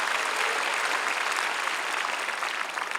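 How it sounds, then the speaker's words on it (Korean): A church congregation applauding steadily during a worship service, dense clapping throughout at a constant loud level, close and without talk. "믿는 박수로 하나님께 영광 돌렸습니다"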